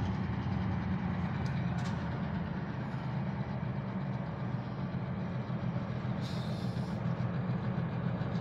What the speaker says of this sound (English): And there's another Norfolk Southern coming down the other side.